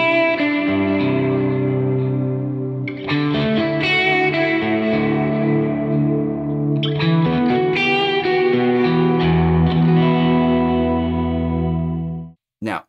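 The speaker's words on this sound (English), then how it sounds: "you can have the delay on or the reverb on or both together" Electric guitar played through a UAFX Del-Verb pedal with delay and reverb engaged together, sustained chords and notes blooming into repeating echoes and a lush wash, loud and continuous, cutting off abruptly near the end.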